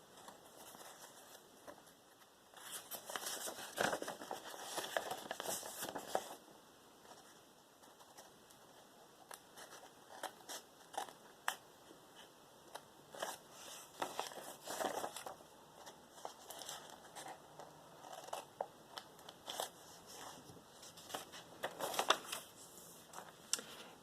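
Scissors snip and cut through paper for slot-and-tab bookbinding, an irregular run of close, crisp clicks and rustles that comes in clusters over a faint steady background hum.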